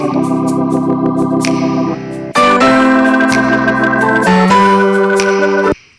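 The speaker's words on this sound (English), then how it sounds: "Without the bass, the organ sounds like this." Sustained organ chords play with thin low end, shifting between a few held harmonies with a brief break before a louder, brighter section.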